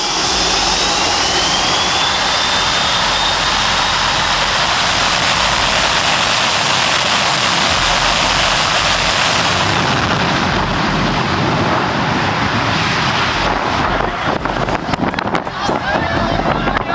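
Loud, steady roar of jet engines dominating throughout, with a rising whine early on and the noise shifting near the end.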